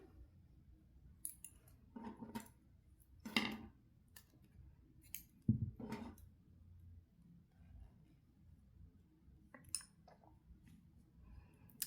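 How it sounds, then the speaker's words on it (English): Scissors snip through yarn from a crocheted backless tank top in a series of crisp, close cuts scattered across a quiet background, with a few sharper clicks between them. "now we can cut our yarn"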